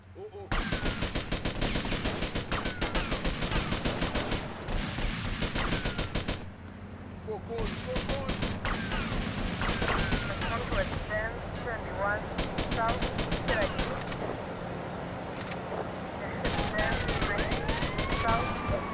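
Sustained machine-gun fire rattles through a gang rampage in Grand Theft Auto Vice City, long dense bursts with brief pauses, and someone talks over it at times.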